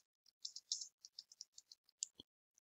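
A computer keyboard is typed on in a quick, irregular burst of close, crisp clicks over about two seconds, with a single final tap after a brief pause.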